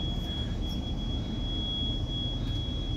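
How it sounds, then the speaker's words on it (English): Air suspension on a 2008 Tiffin Phaeton 36QSH diesel motorhome pumps up with air, giving a steady, low, continuous hiss and hum heard from inside the coach with no voices. "sound you hear is the coach pumping up with air."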